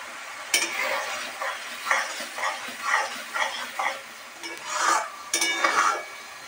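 Homemade ghee bubbles and sizzles softly in a pan as butter simmers down, with quiet crackling bursts and occasional stirring scrapes, fairly close but low in level.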